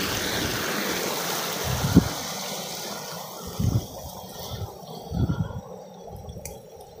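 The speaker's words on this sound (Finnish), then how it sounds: "Täällä tulee niinku useammasta suunnasta tuota puroja." Small brooks flowing in from several directions at Porttilouhi in Juuka during spring snowmelt, a broad steady rush of running water with a few low splashing thuds, no talk.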